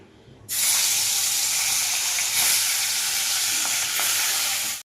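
Turmeric-coated fish pieces hit hot oil in a wok and fry with a loud, steady, close sizzle that starts abruptly and holds for several seconds.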